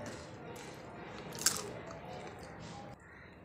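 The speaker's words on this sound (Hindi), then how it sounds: "ये देखें ये बहुत ही क्रिस्पी बनी है क्रंची बनकर हुई है तैयार" Someone bites into crispy, crunchy homemade jalebi, a single sharp crunch midway through, close and fairly soft against a quiet kitchen background.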